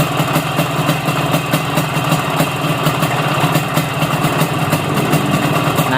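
A motorcycle engine idles steadily after a carburetor adjustment, a loud, even, rapidly pulsing putter heard close up with no talk over it.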